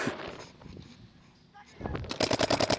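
At a paintball practice field, a quick burst of rapid sharp pops from markers rattles close by near the end as shots hit the player, following muffled movement and a brief quiet spell.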